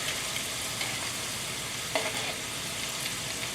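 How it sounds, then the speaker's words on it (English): Crab rangoon wrappers filled with cheese fry in hot oil, a steady dense sizzle that keeps going throughout with a few soft stirring knocks, close and fairly loud. "we want the oil fry each corner of the crab Rangoon wrapper"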